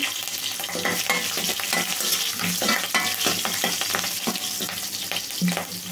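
Cut green chili pieces hit a hot pan, ready for a baby potato fry, giving a loud, close, continuous sizzle broken by rhythmic stirring scrapes.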